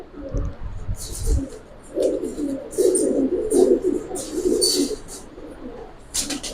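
Giribaz pigeons coo in a series of soft, throaty, pulsing calls at close range, repeating in short bursts with brief gaps and light rustling between them.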